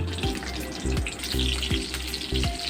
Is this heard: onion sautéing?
yes